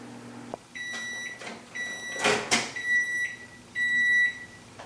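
A microwave oven hums, with a few series of sharp electronic beeps, a door clunk and some handling noises nearby.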